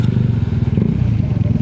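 KTM motorcycle engine chugging steadily as it rides through a flooded highway, a loud, close, low throbbing rumble with water splashing and clatter, no pause over the short stretch.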